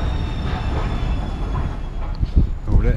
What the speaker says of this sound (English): Quickly, there's a train coming.